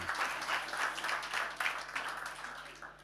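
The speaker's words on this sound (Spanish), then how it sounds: "Le damos un aplauso al hombre que la sudó con gota gorda." A leadership conference audience gives a short, dense round of clapping that lasts about three seconds at moderate loudness.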